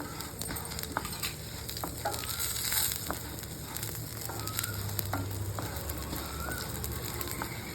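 Cumin seeds and black peppercorns dry-roast in a pan for a village-style homemade mutton masala, with continuous gritty stirring, rattling and scraping of the spices against the metal. The sound is close and steady, with no talking.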